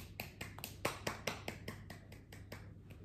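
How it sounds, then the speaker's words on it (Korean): A baby claps its hands in a home, giving a quiet, uneven series of about a dozen soft slaps over a few seconds with a faint background hum. "저 박수 엄청 잘 치거든요."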